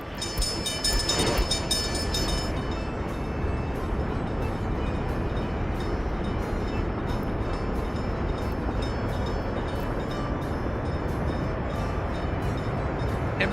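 A train rumbles and clatters along in the Workers and Resources game, a continuous loud rolling drone with rhythmic clicks, opening with a brief horn-like tone.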